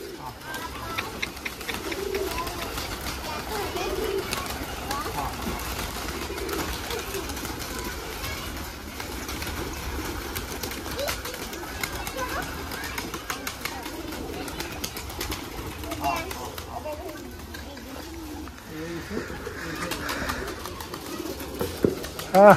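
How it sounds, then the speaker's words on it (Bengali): Domestic pigeons coo softly in the background amid a steady noisy ambience, with intermittent voices nearby. "আপনারই কবুতর"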